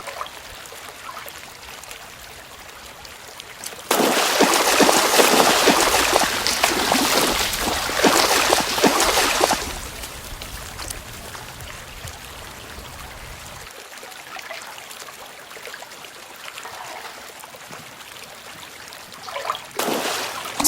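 Water trickles and burbles through a shallow winter stream where a leopard cat hunts fish, a soft constant flow interrupted by a louder splashing surge lasting several seconds, with a brief splash near the end.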